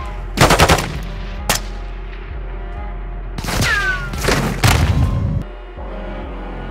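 Gunfire during a prison break mission in Call of Duty: Modern Warfare: several sharp, loud shots and short bursts spaced across the clip, with booming thuds, a brief whistling tone and a low steady hum between them.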